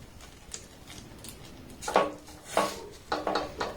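Thick semolina dough being stirred in a pot, heard as irregular scraping and knocking of a utensil against the pan, growing louder with several distinct strokes toward the end.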